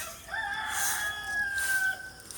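A rooster crows once in a long, drawn-out call at dawn on a cloudy, rainy morning, clear and fairly close over a quiet background.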